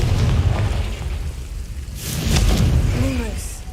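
A Confringo blasting spell explodes in a Harry Potter video game: a loud, broad booming burst that swells midway through the clip over steady low rumbling game sound, followed by faint tonal whooshes.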